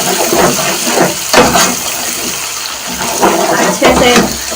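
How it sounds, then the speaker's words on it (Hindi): Green chilies fry in a hot pan for a chicken and bottle gourd (lauki) curry, giving a continuous crackling sizzle with irregular louder bursts of hiss. "मैं इसे 1 मिनट के लिए फ्राई करूँगी"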